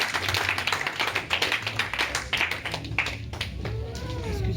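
A church congregation claps together to acclaim Jesus Christ during a worship service, a dense, steady wash of hand claps that stays loud throughout, with a voice or sung tone rising faintly near the end.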